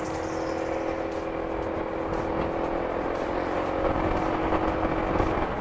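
A Honda PCX160 motor scooter, 157cc, rides along a bypass road, its engine droning steadily with constant wind and road rumble, slightly louder toward the end.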